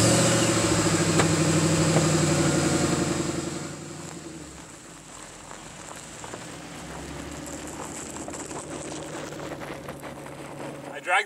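A car rolls along a dirt and gravel road, dragging a Condor Exo plate carrier behind it; a steady engine and crunching, scraping rumble is loud at first, then eases into a quieter continuous grind.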